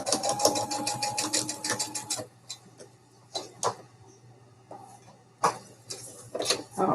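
A sewing machine stitching a Christmas advent calendar about 1/8 inch from the edge: a fast, close, rhythmic run of needle strikes for about two seconds, then short intermittent bursts with quiet gaps.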